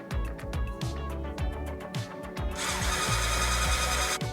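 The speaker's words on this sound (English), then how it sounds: "we need to whisk it" An electric hand mixer whisks egg whites for souffle pancakes, a close buzzing motor with rhythmic rattling pulses as the beaters knock the bowl, then a steadier, brighter whir as the speed rises.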